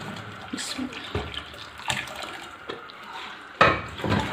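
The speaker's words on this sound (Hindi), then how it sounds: "ये जो गोश्त मैंने गलाया था, ये मैं यखनी समेत ही इसके अंदर शामिल कर रही हूँ।" Tender boiled mutton tipped into a cooking pot together with its broth, giving a close, wet splashing and pouring with a few sharp spills and one louder slosh near the end, with no talking.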